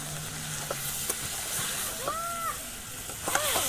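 Fried potatoes being stirred into yogurt chicken in a village kitchen pan, giving a steady low sizzle with soft scraping stirs, some brief clinks and a faint voice in the background.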